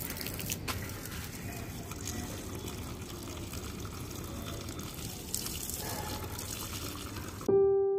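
Water pours steadily onto cauliflower plants in a garden bed, a continuous close splashing and trickling stream that stops abruptly near the end.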